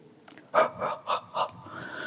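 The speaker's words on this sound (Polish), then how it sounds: "Robisz głęboki oddech" A person takes a deep breath in through several short, close, breathy pulses in quick succession, with quiet room tone between them.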